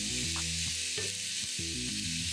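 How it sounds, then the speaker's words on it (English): Celery, carrots and onion for a mirepoix are stirred in a frying pan, a steady sizzle running under repeated scraping strokes of the spoon, with no one talking. "You want to move your veg, keep it moving, keep an eye on it."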